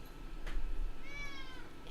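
A cat meows once with a drawn-out, tonal call at close range, following a brief soft rustle, over a steady low background hum.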